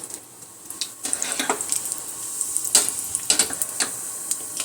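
Whole red chillies and cumin seeds hit hot oil and crackle in a loud, bright sizzle, with sharp spitting pops bursting irregularly over the continuous hiss.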